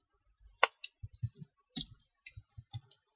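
A series of sharp, close computer mouse clicks, some single and some doubled, spaced irregularly across a few seconds in a quiet room.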